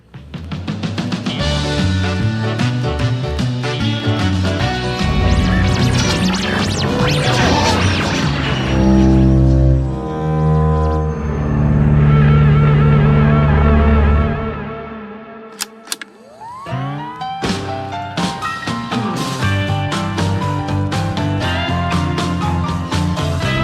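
Round change music from a Call of Duty Zombies game, a loud continuous dense instrumental passage with shifting sections and a brief drop near the end before it resumes.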